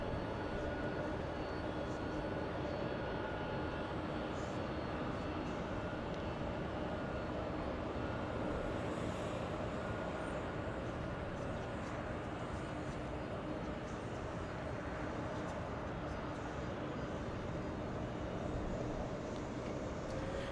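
A United airliner departing Los Angeles International Airport, a continuous distant jet rumble and roar that stays steady and even for the whole stretch, heard from afar without talk.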